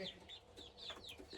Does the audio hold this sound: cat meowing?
no